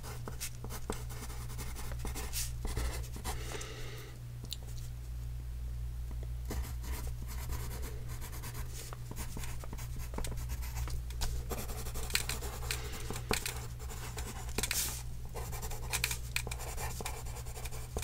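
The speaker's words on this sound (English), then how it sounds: "Let me just write these down." Pencil scratching steadily across paper at close range, a continuous dry writing texture with small pauses and strokes, no voices present.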